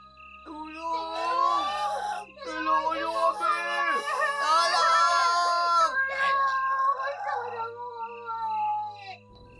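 Deafening, drawn-out screams and anguished wails from several voices overlap in a horror audio drama, loud and close, rising and falling over nearly ten seconds against a low, eerie background.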